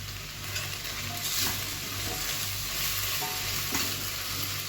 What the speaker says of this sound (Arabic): قلبناها شويه، خدت من طعم الايه؟ البصل والثوم.